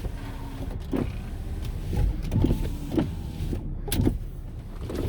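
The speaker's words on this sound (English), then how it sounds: "All the windows work." Electric windows on a 2008 Volvo XC90 motor up and down in a series of short whirring runs, each ending in a soft thunk, heard close inside the cabin with no talking.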